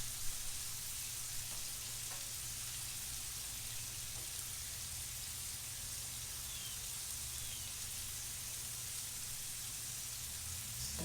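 Steaks and potatoes sizzle steadily in a hot pan, a dense, even crackle and hiss that holds for the whole stretch with no talking.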